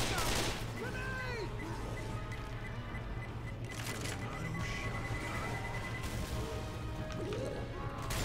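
Guns fire in a zombie shooter game, Left 4 Dead 2, with repeated sharp bursts and crashes amid chaotic game noise, close and loud.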